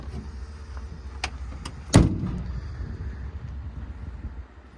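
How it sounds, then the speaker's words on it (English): Power locks and power windows operating on a 2023 Mack MD6 service truck with a Cummins diesel: a few light clicks, then one sharp loud lock thunk followed by a fading whir over a low cab hum. "Power locks and power windows."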